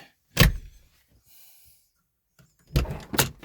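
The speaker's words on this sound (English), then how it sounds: "but does the handle open the door?" A Lincoln Town Car door with a repaired handle is opened, making two close, loud bursts of mechanical clunks and latch clicks with a quiet gap between them.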